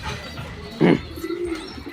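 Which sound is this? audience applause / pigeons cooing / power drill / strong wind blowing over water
pigeons cooing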